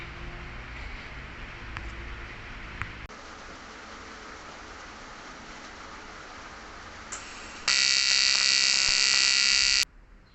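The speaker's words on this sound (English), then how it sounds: "I'll grab the TIG, give it a couple of tacks, pull it off and weld it up." A TIG welder joining aluminium angle bar to a radiator in a Celica engine bay gives a steady electric buzz that holds evenly, then grows much louder for a couple of seconds near the end before cutting off.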